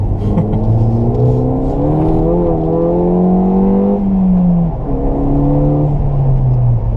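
A 2015 Ford Fiesta ST with a Stage 1 COBB tune, heard from inside, revs steadily under acceleration, with a clear drop in engine pitch at a downshift from third to second before it pulls again.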